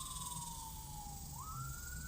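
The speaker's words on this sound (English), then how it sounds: "Police siren, hold on." A police siren wails outside, one steady falling tone that then jumps up and holds, heard at a distance over constant background hiss.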